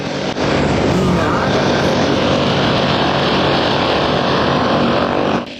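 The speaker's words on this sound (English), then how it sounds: "Look, a helicopter is landing here in this area." A helicopter lands nearby, its rotor and engine forming a loud, steady broadband roar that starts abruptly and holds for several seconds before cutting off.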